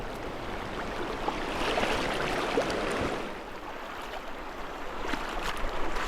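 Feet in waterproof socks wade across a cold stream in Canada, stirring up uneven sloshing and splashing over a constant flowing backdrop, with a few sharper splashes and no talking.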